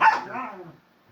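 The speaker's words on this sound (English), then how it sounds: "that's my dog playing with the cat." A dog barks once, close and clear, while playing with a cat. The short bark stands alone and fades quickly into quiet.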